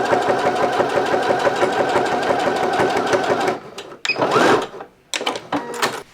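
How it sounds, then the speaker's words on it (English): A sewing machine stitches a fabric headband closed with a straight seam, running close by with a fast, steady mechanical chatter for a few seconds, then stops, followed by brief handling clicks and rustles. "flatten it down on the sewing machine, and then just sew it straight to close it up"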